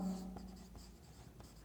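Chalk or marker scratches across a board in a chemistry lecture, a few short faint strokes close by with no talk.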